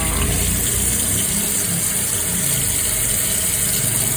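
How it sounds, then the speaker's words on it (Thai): Raw beef is rinsed under a running tap, a loud, steady rush of water pouring continuously and close by with no voices. "ล้างน้ำให้สะอาดค่ะ"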